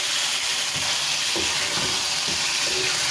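Potatoes tipped into a pan of frying spice masala for achari aloo gobi, giving a steady close sizzle with soft stirring knocks and scrapes throughout, no voices.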